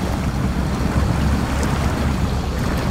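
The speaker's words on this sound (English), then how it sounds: "Okay, we are crossing the water here." An off-road truck fords water in the SnowRunner driving game, with a steady, rushing wash of water and engine rumble that holds loud and even throughout.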